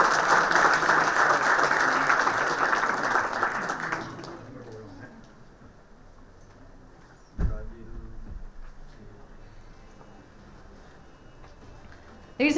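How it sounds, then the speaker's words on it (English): Loud, dense applause fills a hall at a committee launch, then fades after about four seconds into quiet room tone with a sharp thump and scattered low sounds, and a voice speaks faintly. "can we make a huge round of applause"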